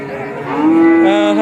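A Holstein Friesian calf at a cattle market gives one loud, close, drawn-out moo that rises and holds steady for over a second.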